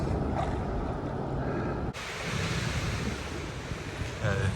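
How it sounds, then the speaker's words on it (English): Big ocean waves crash and wash on a beach, a loud continuous roar of surf with wind buffeting the microphone and a surge of breaking water partway through. "I'll show you a little bit of how big these waves are"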